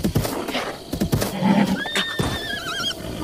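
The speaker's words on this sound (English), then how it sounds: "Horses." Two whinnies from a horse in The Legend of Zelda: Breath of the Wild, mixed with hoof thuds and low murmuring, followed by a warbling game tone sliding upward near the end.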